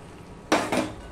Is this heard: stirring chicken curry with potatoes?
yes